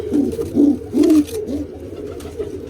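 Pigeons from a nesting pair coo close by in a loud series of rolling low calls, about five distinct bursts in quick succession, then softer murmurs with faint rustling.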